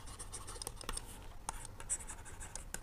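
Pen writing on paper during a trigonometry math lesson, a soft continuous scratching with small taps and strokes, close and quiet, with no talking.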